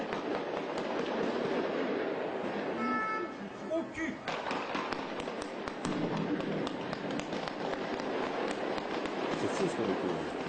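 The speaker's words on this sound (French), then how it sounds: "Échange de coups de feu nourris." A heavy exchange of gunfire with stun grenades during a hostage rescue in Paris, rendered as a dense, continuous crackle of rapid shots and bangs at a distance, with a French voice speaking over it.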